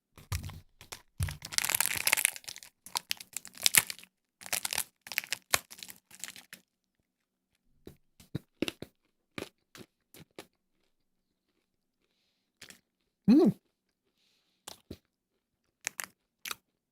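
Crunchy ginger-flavored sweet being bitten and chewed close to the mic, a dense burst of loud crunches at first, then sparser, quieter crackles with long pauses between bites.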